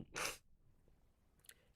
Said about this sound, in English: that sneeze does not take away this serious moment